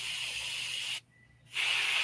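Aerosol spray paint hisses in two bursts with a brief silent break between them. The bright, steady sound is close by during basement crafting work.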